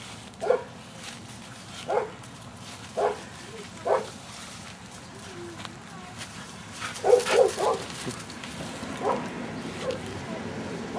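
Several dogs, including small ones, give short whimpers, yips and soft barks in scattered bursts over a low background hum, the noises fairly close and moderately loud.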